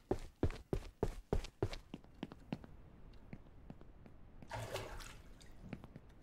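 Water splashes and pours in the Ranch Simulator farming game, opening with a run of sharp, evenly spaced knocks, then sparse ticks and a brief rushing swell near the end, with no voices.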